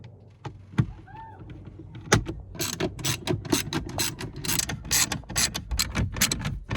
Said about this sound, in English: So we have 4 T20 bolts. Remove the glove box.